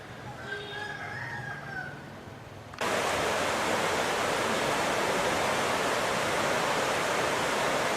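A river on the Burmese border in Thailand, flowing toward the Mekong, rushes in a loud, steady, broadband roar that starts abruptly partway through, after a few seconds of rooster-like calls and birdsong over quiet ambience.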